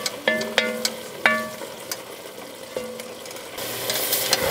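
Onions cooking in a pot, stirred often until browned and caramelized, with clinking utensil strikes against the pot over a soft sizzle, growing into a louder hiss at the end.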